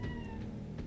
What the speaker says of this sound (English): I don't know if people could hear that little meow.